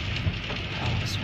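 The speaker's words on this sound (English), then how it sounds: "And now it's raining. And there's a thunderstorm." Rain falling during a thunderstorm, a dense steady patter close by with a low rumbling undertone, brief and continuous.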